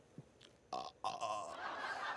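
A single deep burp breaks a quiet pause in a comedic Bollywood-style interview, followed by a longer, rougher belch-like stretch that trails into hissy noise.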